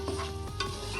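Lemon rice being stirred in a hot pan, with a steady sizzle and scraping spoon strokes close up and no talking.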